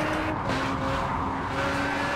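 A 1300hp Honda Civic Hatchback in a racing video game on a No Hesi VTEC server roars steadily at high revs with tires squealing, a dense, loud, continuous engine and skid noise with no talk.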